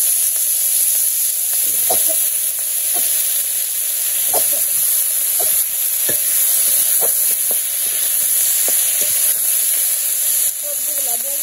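Vegetables frying in a hot pan on a village kitchen fire, giving a steady loud sizzle and hiss throughout with scattered crackles and pops.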